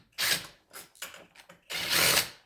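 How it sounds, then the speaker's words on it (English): Power drill with a 5/16 socket spinning out bolts on a die end plate, in four bursts of whirring, the last burst longest and loudest, close by with no talk. "I'm going to, just for speed, use my drill with my 5/16 here. And take these 4 bolts out."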